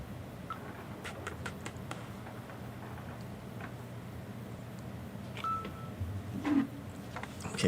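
A phone chimes with a rapid run of short message notification blips and ticks, several quick tones in succession over a quiet background.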